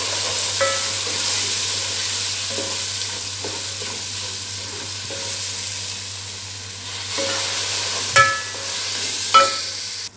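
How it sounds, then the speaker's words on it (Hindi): Dried red chillies, salt and crushed chilli frying in oil in a pan for kadhi, a steady close sizzle with a few sharp stirring scrapes and clinks near the end, no voices. "इसको थोड़ा सा भून लेते हैं"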